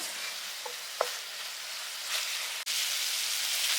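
Ingredients for hotel-style kurma sautéing in a pan, a steady close sizzling hiss with a few spatula clicks and scrapes, briefly cut off then resuming at the same level, no voices.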